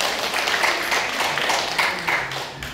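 Audience clapping fills the room at a year-end evening gathering, a dense continuous burst of applause that stays loud throughout and tapers slightly at the end.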